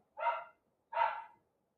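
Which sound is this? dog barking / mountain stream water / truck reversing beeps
dog barking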